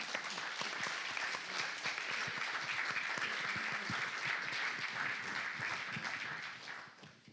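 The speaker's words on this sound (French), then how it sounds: "Peut-être l'applaudir." Audience applause at an evening meeting, a dense, steady wash of many hands clapping at moderate volume for about seven seconds, fading slightly at the end.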